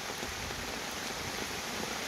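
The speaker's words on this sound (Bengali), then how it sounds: "বৃষ্টি শুরু হয়ে গেছে, বাতাস শুরু হয়ে গেছে," Dense, even patter of rain falling in a mango orchard, a continuous hiss of drops striking leaves and a shelter roof close by, with no voices.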